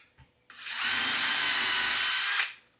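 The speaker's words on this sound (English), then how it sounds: "from here, just drill our hole" A power drill whirs at high speed for about two seconds, boring a hole in a wooden cabinet door through a hardware jig, starting and stopping abruptly, close and loud.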